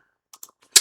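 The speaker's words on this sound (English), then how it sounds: "And I typed it in wrong." A computer keyboard clicks as a web address is typed in short, close, crisp taps, a few scattered keystrokes ending in one louder final press.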